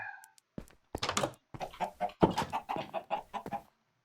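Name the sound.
chickens clucking in video game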